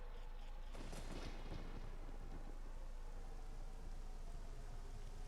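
Rain and thunder summoned in the video game Ocarina of Time: steady, dense rainfall with a rumbling thunder roll early on, fairly faint and continuous, no talking.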